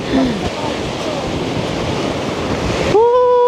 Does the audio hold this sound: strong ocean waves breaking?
yes